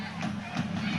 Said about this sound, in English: Amazing crowd here tonight on both sides.